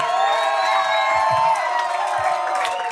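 Comedy club audience cheering and whooping for a performer, a loud sustained crowd roar with shrill whistles and shouts throughout.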